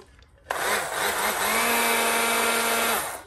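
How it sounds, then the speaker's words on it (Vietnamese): An electric pepper grinder switches on abruptly and runs with a steady, high-pitched motor whine that holds evenly for a few seconds before winding down, close and alone. "Xay tiêu này thật sự các bác là chạy cực kỳ êm luôn."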